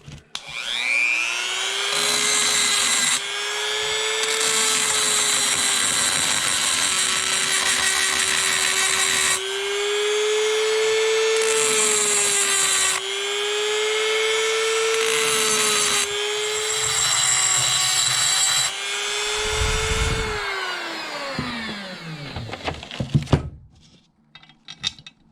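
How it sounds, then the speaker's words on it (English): A Dremel rotary tool grinds down a metal motor mount for a motorized Mongoose bicycle, a loud sustained high whine that dips and recovers in pitch as it bites, then spins down near the end. "I'm going to have to finish that with a file, but just try and get most of it now with the Dremel."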